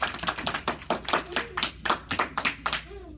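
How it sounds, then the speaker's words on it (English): Classroom students applaud together in a regular, rhythmic pattern of about a dozen crisp, evenly spaced claps, close and clear with little else around them. "Give yourself a round of applause."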